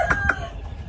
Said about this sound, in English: Kearny white Hackle, black McRae hen.